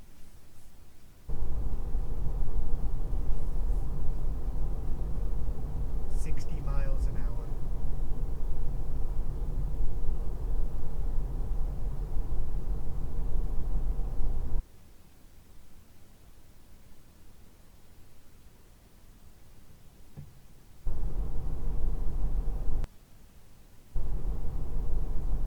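Steady broadband road roar inside a Tesla Model 3 cabin while driving, a dense even hiss that drops away in quieter stretches and returns, with no voices.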